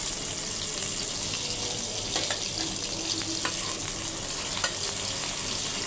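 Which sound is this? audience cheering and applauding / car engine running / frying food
frying food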